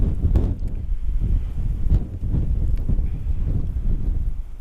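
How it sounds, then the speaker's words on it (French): Strong wind buffets the microphone in a constant low rumble, with gusty thumps rising and falling throughout. "Il y a tellement de vent, j'arrive même pas à tenir la caméra"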